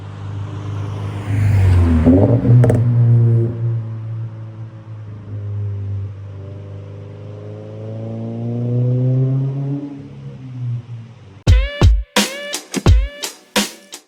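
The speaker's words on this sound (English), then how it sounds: "my nice Remark exhaust I got. It sounds so clean." Sports car engine with a Remark aftermarket exhaust idles and swells in a long rising rev, then several sharp, loud throttle blips and pops crackle from the exhaust near the end.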